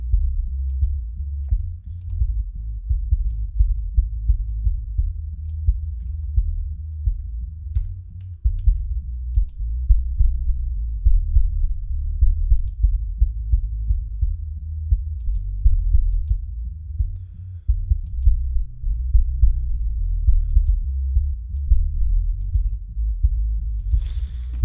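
Deep, rumbling low-end bass below 50 Hz from a mix of "I'm Still Standing," filtered down to the sub frequencies, steady and heavy throughout with no voices.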